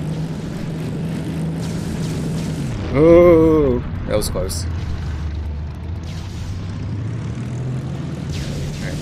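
In the Sky Battles game an enemy fighter plane's propeller engine drones steadily, then swells as it sweeps close past with a loud rising and falling whine and impact bursts, while a player talks briefly.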